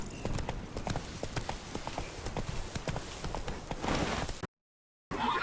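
Hooves clip-clop rapidly as a horse gallops in The Witcher 3, a dense, steady rhythmic drumming of hoofbeats close up, with a brief silent gap near the end before the hoofbeats return.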